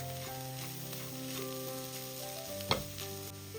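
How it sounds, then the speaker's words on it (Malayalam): A mashed potato mixture sizzles and fries steadily in a pan while being stirred, with a continuous close crackle and a sharp scrape of the spoon near the end, and no speech. "ഇളക്കി യോജിപ്പിച്ചെടുക്കാം."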